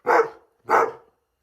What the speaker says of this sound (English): We got the shop dog, Malcolm.